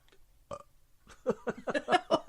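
A gurgling, drawn-out burp of several voiced pulses, quiet at first and building louder toward the end, with no talk over it.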